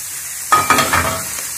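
Mushroom sauce for pork loin heats in a pan, giving a steady close sizzle with a few louder bursts of bubbling and stirring scrapes partway through.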